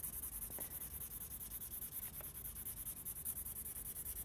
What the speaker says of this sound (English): I'm going to quickly put down our graphite pencil.